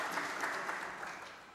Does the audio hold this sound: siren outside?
no